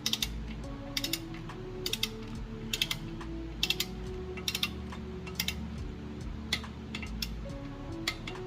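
A ratchet clicking in short bursts of rapid pawl ticks while tightening clutch bolts on an H22/H23 Honda engine, with pauses between strokes, close and clear with no talking.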